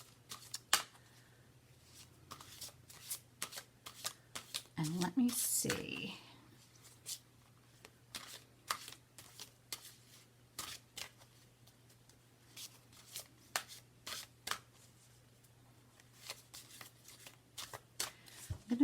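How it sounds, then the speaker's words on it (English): Tarot cards are shuffled by hand in repeated soft riffling and slapping bursts over several seconds, close and quiet, with a low steady hum underneath and a brief spoken remark. "so let me shuffle these."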